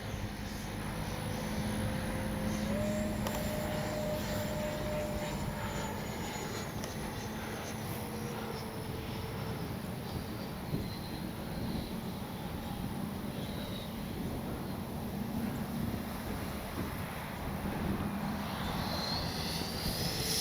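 A FLYFANS K-8 Red Falcon 6S RC jet plane flies overhead, its steady whine and airy roar holding for the whole stretch with slight pitch sweeps as it passes, with no talk.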